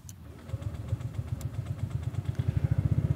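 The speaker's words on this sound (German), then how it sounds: "wenn wir jetzt mal hören, wie der Starter klingt." A SYM ADX 125 scooter's small engine turns over on its electric starter and catches, settling into a rhythmic low putter that grows steadier and slightly louder as it idles.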